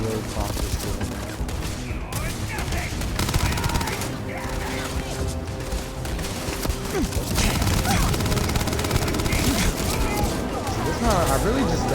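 Rapid gunfire from a weapon in the video game Starfield rattles in dense, continuous bursts with crashes and impacts over a busy combat mix, with someone talking over it.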